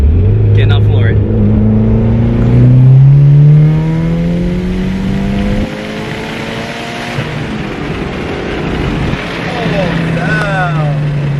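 A tuned, high-mileage Mitsubishi Evo 9 MR pulls hard at full throttle in third gear, its engine note climbing through a loud rising rev with a gear-shift drop partway through, heard from inside the car under excited talking.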